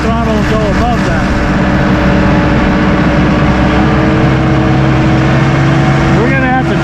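A Massey Ferguson 2E.60 compact utility tractor engine runs steadily at throttle, a loud, constant mid-pitched drone close by, with someone talking over it throughout.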